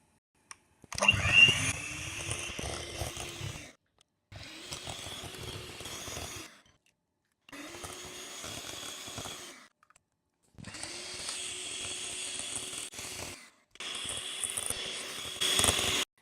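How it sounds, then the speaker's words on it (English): An electric mixer beats eggs one at a time into pound cake batter, giving a whirring drone in five long bursts of about two to three seconds each, separated by short silences, and no talking. "So we're going to beat in this egg before adding the next one."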